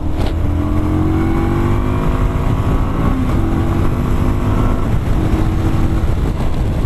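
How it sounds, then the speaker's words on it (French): A 2018 Indian Scout Bobber motorcycle engine drones steadily at speed, a rough continuous roar with a slight rise in pitch partway through. "Donc il y a un moteur très présent, une belle sonorité, très masculine, forcément."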